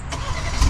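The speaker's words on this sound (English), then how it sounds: "And then this does have remote start," A 2024 BMW 230i xDrive M Sport engine fires up by remote start, a brief low starter crank and rising engine rumble heard close by and alone.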